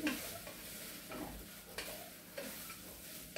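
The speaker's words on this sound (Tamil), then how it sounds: "நான் மெதுவாக தான் உள்ளுக்குள்ள கிளறேன்." Kashmiri fruit-and-nut rice pulav with a splash of milk is gently stirred in a pan, soft quiet scraping strokes over a low steady sizzle, repeating every second or so.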